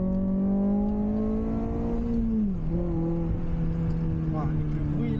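A Honda Civic Type R with a 200-horsepower VTEC engine holds a steady rev, its tone dipping once midway and then carrying on, heard from inside the car with a voice talking over it.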